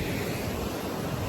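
Ocean surf rolls in at Al Fazayah beach near Salalah, Oman, a continuous broad wash of waves mixed with wind rumble, steady and fairly loud with no voices.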